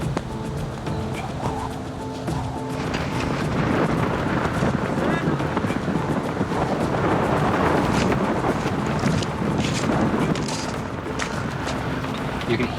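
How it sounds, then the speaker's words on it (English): Roaring wind near a volcano, driving gravel and grit toward a tent in oncoming drizzle and storm, a loud continuous broadband rush with gusting swells and buffeting throughout. "You can hear the roar of the wind and the gravel being brought towards you."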